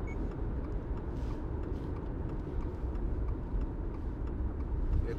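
A 2022 Subaru Outback 4x4 with a trailer runs on a roller dynamometer, giving a steady, unbroken low engine and rolling drone at even loudness, with faint ticks above it.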